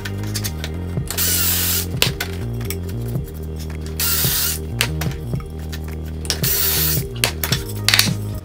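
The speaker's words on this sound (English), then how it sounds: "In the middle, I'm going to do 3 pocket holes." A power drill boring pocket holes in an oak and walnut coffee table, several loud bursts of whirring drilling separated by short pauses and clicks from the jig and tool, no voices.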